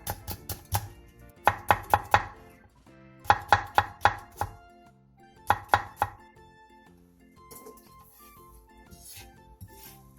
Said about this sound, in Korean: 대파 조금을 길게 반으로 갈라 쫑쫑 썰고 청양고추 한두 개는 길게 십자 모양으로 칼집을 댄 뒤 쫑쫑 썰어주세요